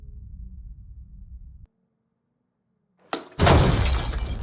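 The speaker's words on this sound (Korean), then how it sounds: "아이는 그만 램프를 넘어뜨려 깨지며 소리가 발생하고 불까지 나게 됩니다." A lamp is knocked over and shatters in a tense horror film scene, with a brief clatter followed by a loud, bright burst of breaking glass after a stretch of near silence.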